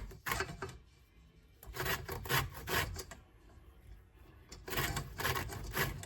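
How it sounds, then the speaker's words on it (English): A lemon is zested on a grater in repeated rasping strokes, three bursts of scraping separated by short pauses, heard close and fairly quiet with no speech. "So the zest of a lemon"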